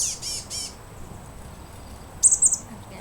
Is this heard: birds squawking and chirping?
yes